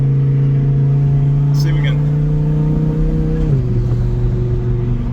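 An Audi R8 race car engine hums steadily and loudly, its pitch stepping down partway through as the revs change, while a person speaks briefly over it.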